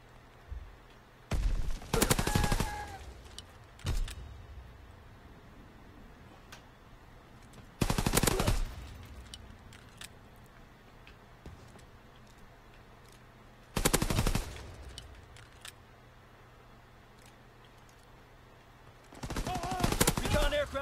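A machine pistol fires in Call of Duty: WW2 multiplayer in four loud, close, rapid bursts separated by quiet gaps, with brief talk between them.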